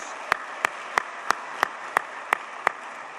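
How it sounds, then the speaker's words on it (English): Clapping at a Teacher of the Year celebration in honor of the event's sponsors: about eight sharp, evenly spaced claps in a steady beat over a soft hiss of room noise. "Let's give a big round of applause for our sponsors."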